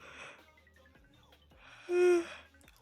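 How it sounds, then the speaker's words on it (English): A close yawn straight into a microphone during a Minecraft parkour podcast, with breathy wheezing inhales, a short voiced rise and a loud squeaky peak near the end. "I just yawned straight into the mic"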